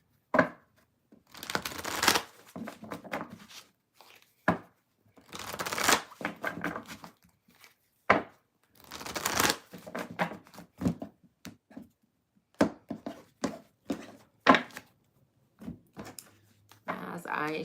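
Tarot cards are shuffled by hand in repeated short riffling bursts separated by pauses, close and crisp, with a voice speaking intermittently between them.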